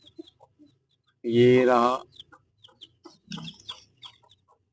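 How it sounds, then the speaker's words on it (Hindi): A rooster and hen come out of their coop, giving one loud, close cluck-like call followed by softer scattered clucks, while someone speaks briefly. "ये मुर्गा और मुर्गी निकल रहे हैं बाहर आस्ते आस्ते अपनी मंजिल की तरफ"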